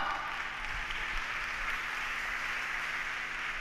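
A church congregation applauds for a speaker, steady crowd clapping that holds at an even, moderate level throughout without a break, heard from within the room with no clear talk over it.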